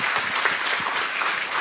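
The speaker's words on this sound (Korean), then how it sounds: "박수 한번 보내주세요" Dense, steady applause from an audience at a public talk on restoring public broadcasting, sustained and fairly loud without a break, with no distinct voices over it.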